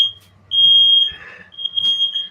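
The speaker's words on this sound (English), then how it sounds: "the podcast has to be closed down because of a smoke alarm" A smoke alarm sounds loud, steady electronic beeping in short bursts separated by a brief gap, with some faint room noise underneath.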